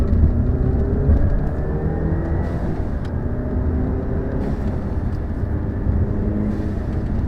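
A muffler-deleted turbocharged VW Jetta GLI MK7 accelerates in second gear, its engine a loud, steady, close rumble with a slight drop in level after the first second, with no talk.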